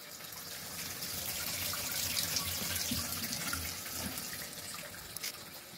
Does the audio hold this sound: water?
yes